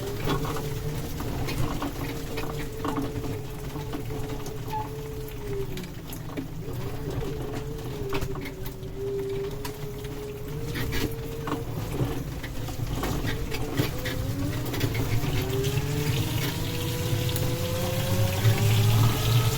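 An electric water pump motor hums steadily alongside running, splashing water, with a low drone and a wavering tone that rises slightly near the end; no talking.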